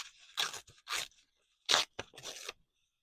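Paper crinkles and tears in several short, crisp bursts close to the ear, with brief quiet gaps between them.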